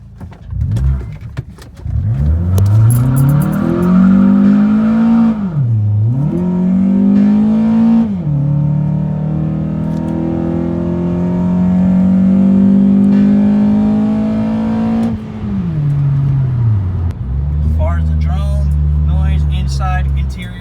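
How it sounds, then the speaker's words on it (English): A 2004–2008 Acura TSX (CL9) with a DNA Motoring cat-back exhaust starts up and revs loudly, the engine note rising and dipping through several throttle blips before settling into a deep, rumbling idle. "So first start up on the exhaust"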